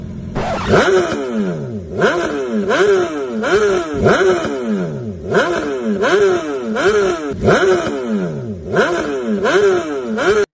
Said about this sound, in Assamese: আজি একেবাৰে টপ গিয়াৰতহে চুটাম বাইকখন